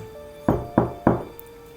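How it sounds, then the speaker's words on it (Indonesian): Three sharp, close knocks strike a door or wall in a silent house, evenly spaced and resonant against a quiet background. "Tiba-tiba terdengar suara ketukan."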